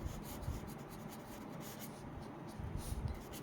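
Pen or pencil writing by hand during a math lesson on solving equations by the inversion method: soft, close scratching strokes in a steady rhythm, faint and without speech.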